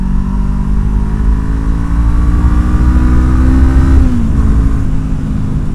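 A loud motorcycle engine runs close by, its pitch climbing as it revs, then easing back down near the end.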